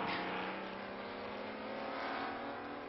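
Red and white Corvette race car with a 7-litre engine, competing at Le Mans, holding a loud, steady roaring drone with dense harmonics throughout, close and unbroken, with no voices.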